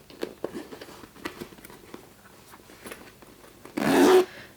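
A sewn fabric utility pouch has its zipper pulled open in one quick, loud, close stroke near the end, after a stretch of soft handling rustles and taps.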